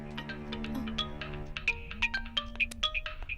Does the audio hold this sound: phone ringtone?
yes